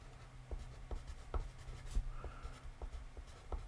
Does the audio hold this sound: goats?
no